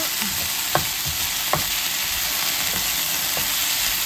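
Potatoes and onion frying gently in a pan give a steady close sizzle, with a few soft knocks and stirring sounds scattered through it.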